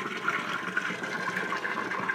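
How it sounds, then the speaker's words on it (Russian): Water runs into a container, a steady gurgling rush at moderate level with slight fluttering, heard alone without talk. "Вот так мы набираем воду."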